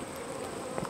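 Honeybees buzzing inside a queenless hive with laying workers, a steady close drone of many wings with a few brief louder swells near the end.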